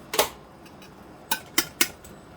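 Metal clinks as a lid goes onto a pot of cooked crab apples: one clink, then three quick taps close by in a quiet kitchen.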